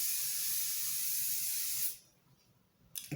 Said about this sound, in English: Now, I like to use Bristers hairspray